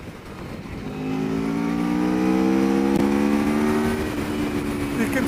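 2019 Aprilia Tuono 1100 Factory motorcycle engine on a test ride, droning steadily as it accelerates and pitches upward under rushing wind, with a voice talking over it.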